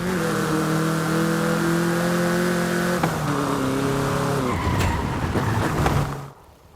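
A Volkswagen Beetle (Vocho) revs and shifts through its gears while driving in Forza Horizon 5, its buzzing engine tone rising and stepping down with each gear change, tires briefly squealing near the end before it fades.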